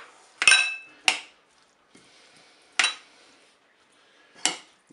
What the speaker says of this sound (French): Vous mélangez tout ça.